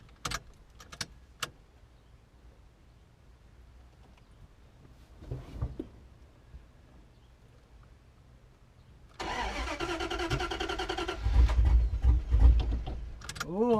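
A 1993 Dodge Dakota with a swapped manual transmission cranks after near-silence, with faint clicks and a soft whir early on, then the engine catches and runs loudly, revving up close by at the end.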